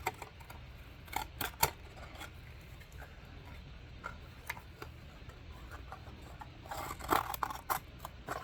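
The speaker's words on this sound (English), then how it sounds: "No problem at all for these scissors." Crisp snips and crunching cuts as Crescent Wiss CW10T 10-inch offset shears cut stiff cardboard, irregular and close, with several sharper bursts standing out near the end. Nobody speaks.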